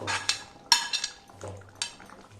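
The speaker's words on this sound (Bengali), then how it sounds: "এবার আমি বেগুন ভাজাটা দিয়ে দেবো" Fried eggplant tipped into a cooking pot of shukto vegetables, with close metallic clinks and knocks of a spoon against the pot and soft stirring, irregular and without talk.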